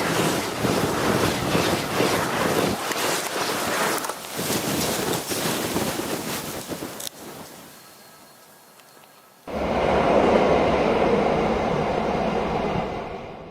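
Train crossing the Landwasser Viaduct in Switzerland, a steady loud rumbling roar that thins out and drops quieter midway, then a fuller, denser wash of noise returns near the end.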